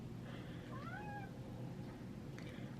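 A hungry cat aboard a large luxury ship gives two short, fairly close meows over a steady low engine-like background rumble, with no talking.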